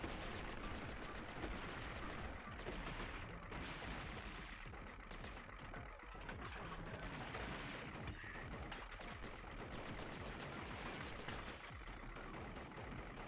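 Rockets firing in the video game Gato Roboto, a dense continuous barrage of booming, crackling blasts that stays loud and steady throughout, with no voice over it.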